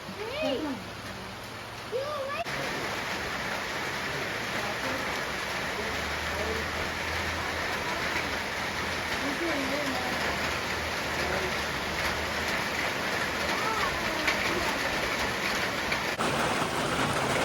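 Rain falling steadily on the Thattekkad forest bird sanctuary in Ernakulam: a dense, continuous patter that fills the whole stretch, with brief voices near the start.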